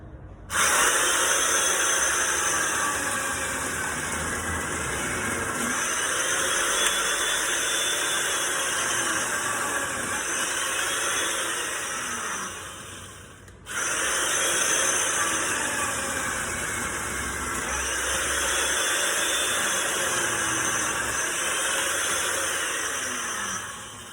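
A Makita chain mortiser cuts a mortise into a wooden fence post, a loud steady motor whine with chain chatter running about thirteen seconds, a brief pause, then a second equally long cutting pass.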